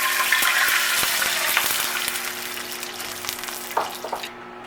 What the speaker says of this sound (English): We're going to go ahead and drop in 2 cups of cranberry juice.